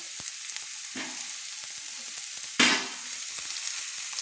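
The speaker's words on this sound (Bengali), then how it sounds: "আলু গাজর আমার ভাজা হয়ে গেছে। দিয়ে দিচ্ছি পেঁয়াজ," Chopped onion dropped into a pan of frying potatoes and carrots, with a steady close sizzle, a few light stirring clicks, and a sharp louder burst of hiss when the onion hits the hot oil.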